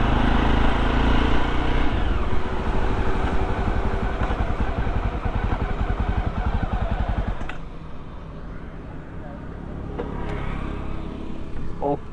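A Jawa Perak bobber motorcycle is being ridden, with a loud, continuous engine drone and rushing wind close by that eases slightly partway through.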